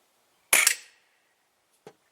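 A Roebel B2-2 .22 calibre air rifle fires a single sharp, loud crack up close with a short decay, followed a moment later by a faint click.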